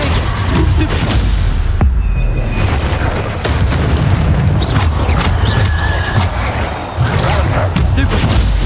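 Bombarda spell blasts in the Hogwarts Legacy video game, loud repeated booms and bursts mixed with other spell and combat effects in a dense, continuous battle soundscape, with a voice talking over it.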